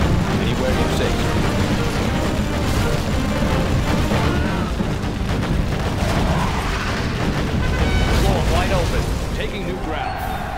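Artillery explosions in the Command & Conquer Generals video game, a dense continuous wash of booms and crashes with game voices and music layered over it, loud throughout.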